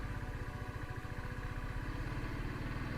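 Motorcycle ride captured by a helmet-mounted Digitek GOCAM action camera, a steady droning engine with constant wind rush and rattle, continuous throughout with no voices.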